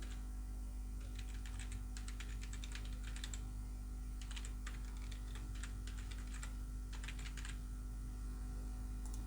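Rapid, uneven bursts of clicking keys on a computer keyboard as an email address is typed, close and clear over a steady low hum, with short pauses between bursts.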